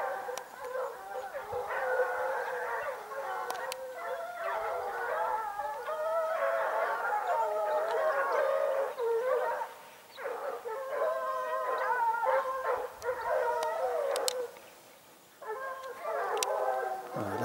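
A pack of hunting dogs bays and howls while chasing a hare in French woodland, a steady chorus of overlapping yelps and howls at a moderate distance.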